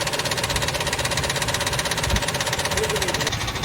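A Ford F150 engine runs at a rough, steady idle, a loud rapid knocking rattle that continues without a break.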